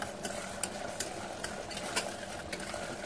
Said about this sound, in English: Stir continuously, otherwise it may catch up the bottom of the vessel.